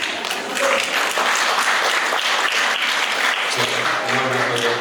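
Audience applause fills a Lithuanian newspaper's reader meeting in the Alytus synagogue, steady dense clapping throughout with a low hum entering near the end.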